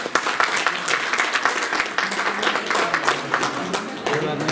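An audience at a retirement honour function for office colleagues applauds loudly and steadily, a dense wash of many hands clapping throughout, with voices mixed faintly underneath.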